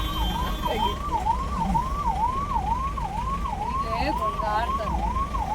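An ambulance siren wails, rising and falling in a steady repeating cycle, heard from a moderate distance over continuous heavy traffic rumble; a second siren tone briefly joins near the end.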